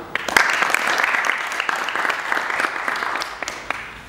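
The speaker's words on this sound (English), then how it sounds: "Round of applause, please." Audience applause at an artificial intelligence incubator event in Tajikistan, a dense steady clapping from a crowd that carries on evenly for about four seconds with no speech over it.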